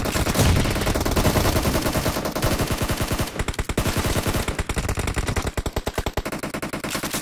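Rapid automatic gunfire from a PUBG Mobile team deathmatch, loud close bursts of fast repeated shots with brief pauses, continuing throughout without talk.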